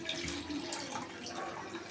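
Fresh water poured over boiled, drained vermicelli in a home kitchen, a steady splashing stream running close and continuous for the full two seconds with no talking.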